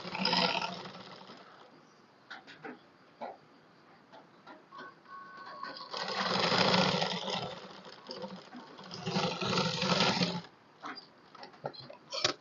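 Sewing machine stitching a neck piece onto a blouse, running in short close bursts separated by pauses, with two longer stretches of steady whirring and light mechanical ticks in between.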